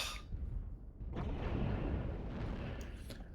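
Heavy mech weapons fire in MechWarrior Online, rotary cannon, small pulse laser and PPC aimed at an enemy center torso: dense, rumbling booms and bursts roll continuously for a few seconds, loud and close with no pause.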